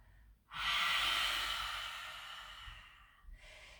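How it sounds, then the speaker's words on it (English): Long, airy exhale during a yoga flow, close and soft, swelling quickly and then slowly fading over a few seconds, followed by a quieter breath. "Inhale. Exhale. Inhale. Exhale."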